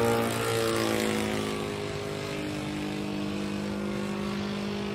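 A Saito four-stroke glow engine fitted in a Ben Buckle Super Buccaneer RC model airplane idles at about one-eighth throttle, giving a close, loud, steady drone with strong harmonics that drops slightly in pitch over the first seconds and carries no talk.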